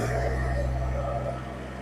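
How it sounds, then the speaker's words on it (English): A John Deere 1023E compact tractor engine is revved up from idle, giving a loud, close, steady diesel drone with a strong low hum that eases slightly toward the end, with no talking. "So I'm going to rev it up here."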